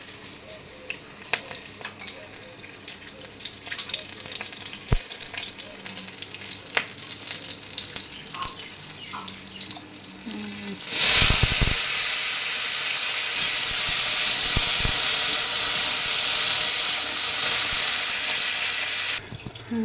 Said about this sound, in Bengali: কড়াইতে পাঁচফোড়ন, লঙ্কা দিয়ে ফোড়ন দিয়ে দিলাম।